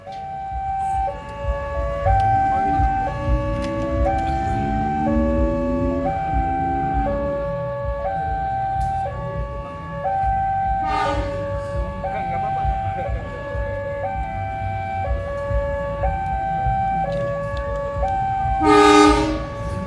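Locomotive horns sounding at a busy railway station, long sustained stepped tones rising and falling in loud repeated blasts, with rumbling and a brief burst of noise near the end.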